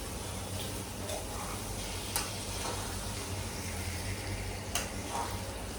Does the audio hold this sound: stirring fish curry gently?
yes